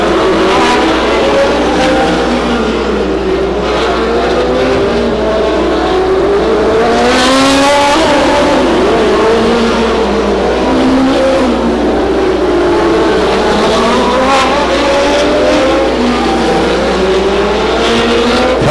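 Race cars at Stockton 99 Speedway, a short oval track, roar past in a continuous loud engine drone, with rising and falling pitch sweeps as cars accelerate and pass through the corners.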